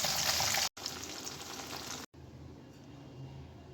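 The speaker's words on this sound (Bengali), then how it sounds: "আমি প্রথমে মাছগুলো ভেজে নেব।" Mourala fish frying in hot oil give off a close, hissing sizzle. It is loud at first, then softer after two brief cuts, with no talking.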